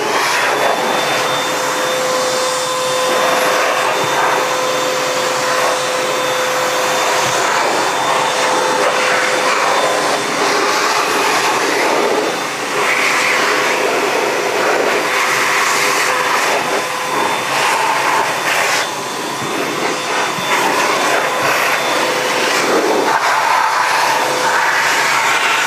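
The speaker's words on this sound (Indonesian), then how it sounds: "cari yang fungsinya bisa sebagai vakum dan bisa sebagai kompresor" A vacuum cleaner set to blow like a compressor whooshes air to clear dust out of a PS3 console, a loud, continuous rushing roar with a steady whine that holds for the whole stretch, small shifts as the nozzle moves.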